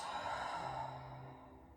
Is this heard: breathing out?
yes